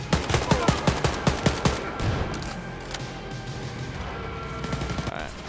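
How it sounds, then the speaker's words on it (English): Rapid, rhythmic shotgun blasts in Wolfenstein: Youngblood, about a dozen evenly spaced booming shots in quick succession, then a noisy stretch of combat rumble and scattered impacts. "You can see the fire rate has increased quite a bit on my shotgun."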